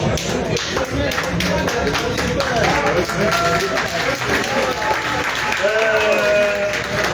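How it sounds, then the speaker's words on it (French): A crowd applauds at an opening ceremony of a homecoming festival, dense clapping continuing throughout while voices and shouts ring out over it. "On applaudit pour Adrien encore."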